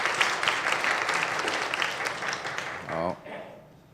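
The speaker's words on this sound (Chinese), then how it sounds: "我们再次掌声谢谢他们的付出哈" A church congregation applauds during a Mandarin Sunday worship service, a dense wash of clapping filling the hall before it thins out and fades, with a brief voice cutting in near the end.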